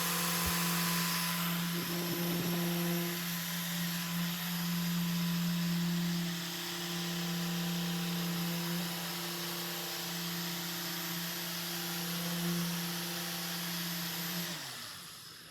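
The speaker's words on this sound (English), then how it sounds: "You'll notice I keep the polisher down as long as I can until rotation and oscillation stops." Car paint polisher running on a painted panel, a steady loud motor whine and hum with constant tone that holds for most of the stretch, then winds down at the end.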